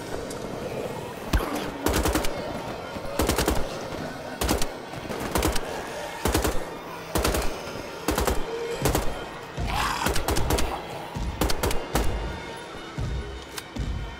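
Gunfire from the video game Wolfenstein: The Old Blood: loud, close shots and short bursts repeat at irregular intervals, some coming in quick clusters.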